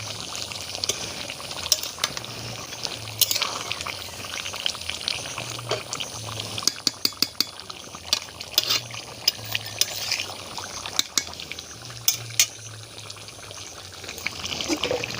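Chicken curry with yogurt being stirred in a pot that has released its own juices, a wet, bubbling simmer with scattered scraping clinks of the spoon, close and moderately loud, with no voices.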